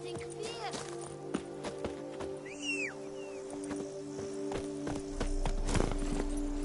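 Roach, the horse in the video game The Witcher 3: Wild Hunt, gallops with quick rhythmic hoofbeats under game music and a bird call. A voice speaks over it.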